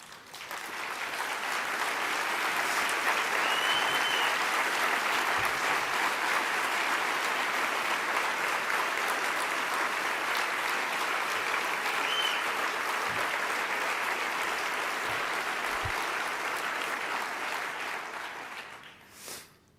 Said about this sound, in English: If you three people would please stand up so we can give you an applause.